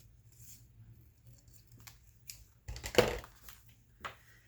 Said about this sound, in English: Cut this white piece off.